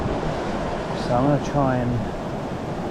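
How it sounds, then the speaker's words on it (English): Strong wind gusting across a New Zealand trout river, a steady broadband roar with no breaks, while someone talks briefly over it in the middle. "Wind's getting crazy."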